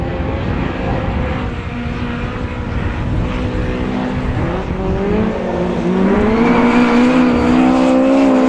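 Autograss race cars roaring around a dirt track at a St Neots meeting, a continuous loud engine drone with rising and falling pitch as cars pass near, growing louder toward the end.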